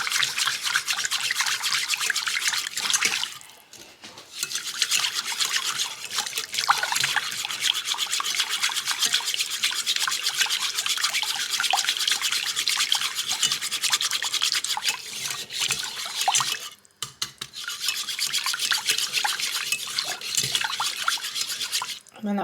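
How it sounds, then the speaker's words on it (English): A whisk scrapes and swishes steadily through a milk sauce in a pan for lasagne, a continuous wet rubbing texture with two short pauses, close and fairly loud. "I'm just going to do a little bit at a time and then just whisk it in."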